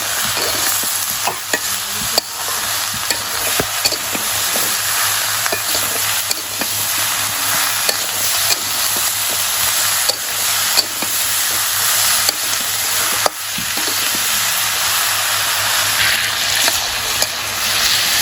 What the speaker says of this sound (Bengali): লাউটা কষামো।